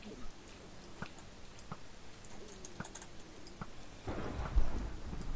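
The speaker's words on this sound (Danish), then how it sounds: "Wow, jeg fik et chok. Fucking lyn." Thunder from a lightning strike in Minecraft: a sudden loud, rumbling crash near the end, after a stretch of quieter game ambience with scattered small sounds.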